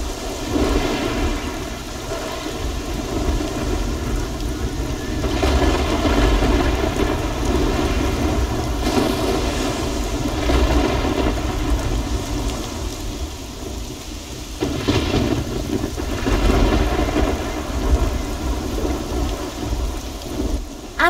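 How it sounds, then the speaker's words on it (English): Rain and thunder in the Risen 2 game, heard as a continuous, fairly loud wash of rainfall with low rolling rumbles of thunder swelling at intervals, without any voices. "And of course it's fucking raining."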